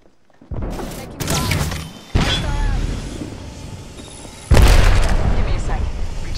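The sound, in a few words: grenade explosion in the video game Apex Legends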